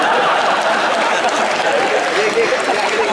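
An audience at a Kavi Sammelan poetry gathering at IIT Kanpur applauds as the poet Mumtaz Naseem arrives. The clapping is dense and steady, mixed with crowd chatter throughout.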